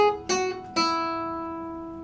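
Two guitar notes on the same pitch, plucked with a bent wrist, close and clear, the second left ringing and slowly fading.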